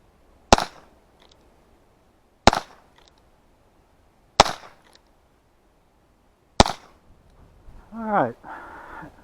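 Four sharp .22 LR gunshots with CCI Quiet ammunition crack out at a steady two-second spacing, each a short, close report with a brief tail, and a voice speaks briefly after the last shot.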